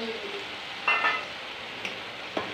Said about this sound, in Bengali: আর নাড়তে হবে অনবরত